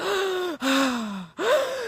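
Heavy, excited breathing imitated by a voice, three loud rasping breaths in a row, each long and pitched, separated by brief pauses, close and alone with no talk.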